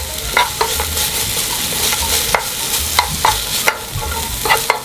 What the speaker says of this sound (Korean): 마늘 1스푼도 같이 넣어서 볶아주세요